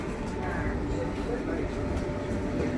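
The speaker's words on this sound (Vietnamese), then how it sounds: "Đây là xe lửa nha." Passenger train ride between Zwolle and Deventer in the Netherlands, with a steady loud rumble and rolling hum from inside the carriage continuing throughout, while voices murmur underneath.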